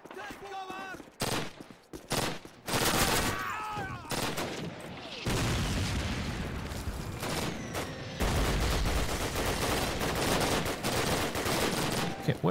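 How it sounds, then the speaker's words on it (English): Bursts of gunfire and machine-gun fire rattle in dense volleys outdoors in the World War II shooter Call of Duty with United Offensive, loud and continuous, while someone talks over the opening seconds. "Where is all this shooting coming from? Oh, it's outside."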